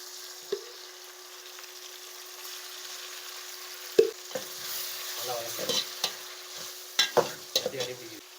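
Ginger garlic paste frying with onions and red chillies in a pan, a steady sizzle under repeated stirring scrapes and clatters, louder bursts near the start and toward the end.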